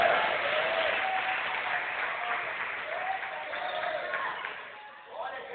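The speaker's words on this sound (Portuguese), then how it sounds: "Você pode aplaudir ao Senhor" A church congregation at a thanksgiving service claps together in a loud, steady burst of applause that fades gently near the end, with voices calling out beneath it.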